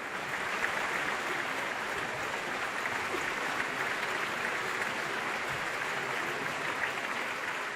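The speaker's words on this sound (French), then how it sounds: "on l'acclame sans discontinuer pour son sang-froid" Dense, continuous applause from a large opera audience cheering Bonaparte, even and sustained without breaks, heard from within the hall.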